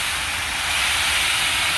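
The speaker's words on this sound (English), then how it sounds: "so the train started moving" The Big Boy steam locomotive gives off a loud, continuous hiss of escaping steam as it starts moving, steady and close, with no voices over it.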